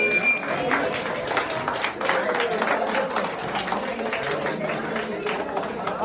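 Guests clap at an engagement ceremony, a steady patter of many hands held near constant, with a voice speaking over the applause.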